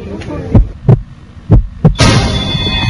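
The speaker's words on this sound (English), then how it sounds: "Can you hear my heartbeat?" A heartbeat, apparently played over a speaker during a stress test: four deep thuds in two lub-dub pairs, loud and close, followed by a swelling hum and hiss.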